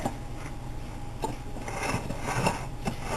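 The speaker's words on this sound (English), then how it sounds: "I'm going to mix it with a fork" A fork scrapes and taps against a pie plate while stirring graham cracker crumbs, a series of light clicks and scratches over a steady low background hum.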